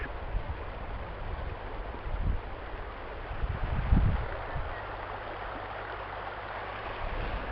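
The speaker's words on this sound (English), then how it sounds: "So here we are at the river." A river flows steadily outdoors on a cloudy, heavy day, giving a continuous broadband rush with soft low rumbles and a brief swell near the middle.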